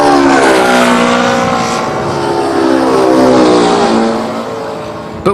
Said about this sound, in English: As the plane flies away, the sound waves stretch out and the frequency and pitch change again.